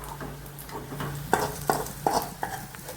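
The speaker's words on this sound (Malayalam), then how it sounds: "ഇതിനെ ഒന്ന് വഴറ്റിയെടുക്കാം." Chopped shallots are sautéed in a pan with a soft, continuous sizzle, and several sharp scrapes of a spoon against the pan cut through it at irregular intervals.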